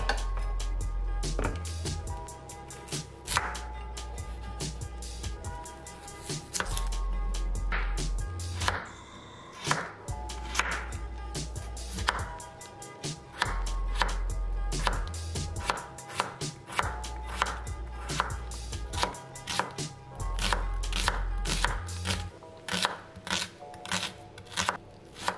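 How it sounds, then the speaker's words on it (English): Vegetables for chicken soup chopped on a board, a long run of rapid, crisp knife strikes in quick bursts with brief pauses, close and loud and without talking. "I will wash clean and chop the spinach."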